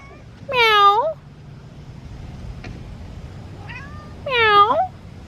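A cat meows twice near a Tesla in a driveway, two clear, drawn-out calls a few seconds apart with a faint chirp between them, against quiet outdoor background.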